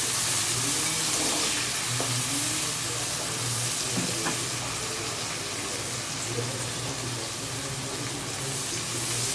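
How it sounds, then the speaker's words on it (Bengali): Sliced onions frying in mustard oil until crisp, giving a steady, dense sizzle and hiss that runs throughout, with faint clinks and stirring and a little background talk. "পেঁয়াজ বেরেস্তাটাও সরিষার তেলেই করতে হবে"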